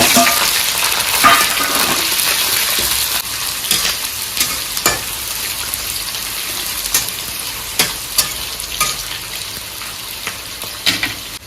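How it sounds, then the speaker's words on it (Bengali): Onions and fresh chillies sizzle steadily in a hot pan for a home-style mutton curry, with occasional scraping stirs and clinks of a utensil, close and continuous with no voices. "পিঁয়াজ আৰু কেঁচা জলকীয়া মানে পকা জলকীয়া এইখিনি দি দিলোঁ এতিয়া ধুনীয়াকৈ ভাজি ল'ম এইখিনি"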